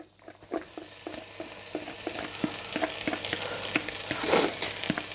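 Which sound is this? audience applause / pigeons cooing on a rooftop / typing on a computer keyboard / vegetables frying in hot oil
vegetables frying in hot oil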